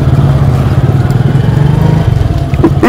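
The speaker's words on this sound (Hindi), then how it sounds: "ये हमारी बाइक है और यहाँ से हम निकलेंगे इस रोड से।" A motorcycle engine runs steadily on a village road near Indore, India, with a loud, even low rumble throughout and no voices.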